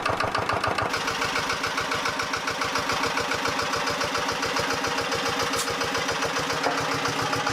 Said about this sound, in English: The Lister LR1 and Petter PAZ1 are classic single-cylinder, air-cooled diesel engines widely used in small industrial applications from the 1940s to the 1960s.